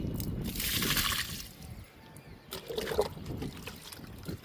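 Liquid fertilizer splashes and trickles onto a guava plant, a close gurgling pour that eases off midway, then resumes with dribbling and a few wet spatters.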